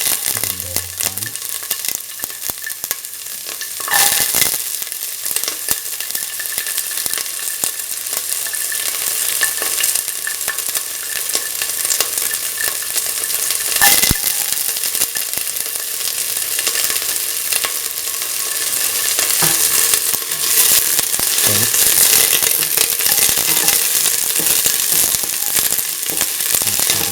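Garlic and shallots fry in hot oil in a pan and are stirred throughout, a continuous crackling sizzle with sharp scraping and popping bursts that grows slightly louder toward the end.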